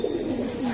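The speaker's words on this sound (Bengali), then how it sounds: "নটটা হ্যামার কবুতর, মাদিটা হ্যামার লাইনের কবুতরই" Hammer pigeons, a male and a female of the Hammer line, give one brief, low, rolling coo close by, heard alone without talk.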